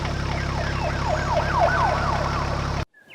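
A wailing police siren in an animated children's story, loud and close, with repeated rising and falling sweeps before it cuts off abruptly near the end.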